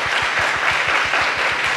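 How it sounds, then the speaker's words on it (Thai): Seminar audience clapping for two panel speakers at a university library training event on adapting to the ASEAN job market, a brief, steady burst of many hands with a faint rhythmic thump underneath. "ขอเสียงปรบมือให้กับทั้งสองท่านด้วยค่ะ"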